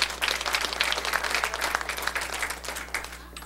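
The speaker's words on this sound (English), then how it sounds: "Round of applause for this gentleman right here." A crowd applauds a bidder at a 2005 community benefit auction in Portsmouth, New Hampshire, dense clapping close and steady before tapering off toward the end over a low hum.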